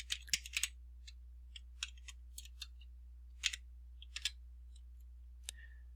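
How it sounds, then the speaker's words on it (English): Sparse, crisp keystrokes on a computer keyboard as a spreadsheet formula is entered, arriving in short clusters with quiet gaps between them, close and fairly soft in a quiet room. "So what we're going to type in here is equals"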